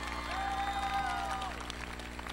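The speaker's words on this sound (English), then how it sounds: "Big round of applause for R.B." A commencement ceremony audience applauds a faculty member who stands, a soft, steady wash of clapping and crowd noise over a constant low hum, with a faint tone drifting through.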